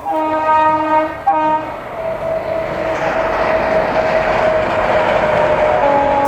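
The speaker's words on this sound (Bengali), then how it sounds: "কংসাবতীর রেল ব্রিজ দিয়ে ট্রেন যাচ্ছে ট্রেনটি যাচ্ছে খড়গপুরের দিকে" A train rumbles steadily past at close range crossing the Kangsabati railway bridge, a sustained horn sounding loudly at the start and again near the end over the rolling noise.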